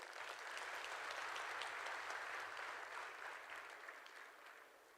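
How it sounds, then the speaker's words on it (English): An audience at a Cavendish University Uganda graduation ceremony gives a minister a round of applause, sustained clapping heard from a distance that stays steady and then slowly fades toward the end. "I think we can add him another round of applause."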